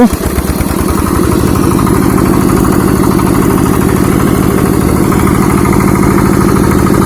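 A Zarya 10-horsepower walk-behind tractor engine roars loudly and steadily close by after the throttle is opened, with a fast, even, rattling putter that keeps going for the whole stretch.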